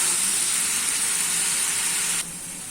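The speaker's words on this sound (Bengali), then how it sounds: "সামান্য পরিমাণ মশলাটাকে ভালোভাবে কষিয়ে নিব।" Spice masala for a fish dopiaza (gulsha fish) frying in a pan, a steady close sizzle and hiss that drops slightly in level near the end, with no talking.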